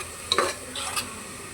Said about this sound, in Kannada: ಟೊಮ್ಯಾಟೊ ಸಾಫ್ಟ್ ಆಗೋವರೆಗೂ ಕುಕ್ ಮಾಡ್ಕೋಬೇಕು